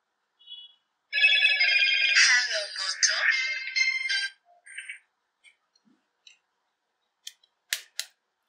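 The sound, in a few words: mobile phone startup sound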